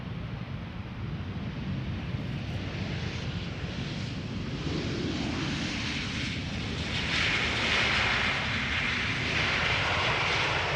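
British Airways jet landing at Amsterdam Schiphol on arrival from London Heathrow, a steady engine roar that swells gradually toward the end, heard from a distance with some wind noise.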